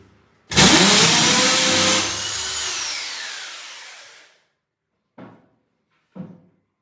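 An air compressor bursts on loudly, a dense roaring rush that slowly winds down and fades over a few seconds, followed by two short separate knocks.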